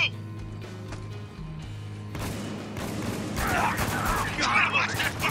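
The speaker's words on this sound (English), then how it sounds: "Lots of bullets to your face" Sustained gunfire in the war video game Spec Ops: The Line, with dense crackling bursts swelling louder over a low droning game soundtrack, with no talking.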